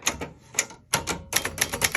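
Bursts of sharp, rapid key strikes on a 1967 Webster XL-500 travel typewriter, close and loud, with short pauses between clusters of clacks.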